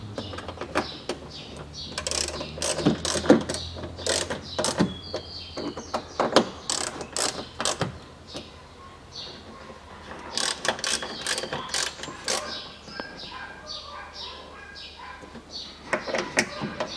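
A ratchet tightens a fastener on the front door lock of a 2013 Range Rover Evoque 2.2, giving repeated close bursts of rapid clicking pawl strokes with brief pauses and faint talk in places.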